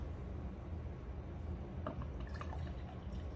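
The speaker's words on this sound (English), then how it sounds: "let me try to get a pour." Miller Genuine Draft beer poured from a bottle, a soft steady liquid rush with faint dripping and fizzing near the end, quiet and close with no talking.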